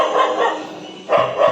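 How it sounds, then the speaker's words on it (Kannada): A dog barks in two short bursts close by, a first pair of barks, a brief pause, then another quick pair, loud and clear with no talking. "ಹೋಗ್ತಾನ ನಾಯಿ"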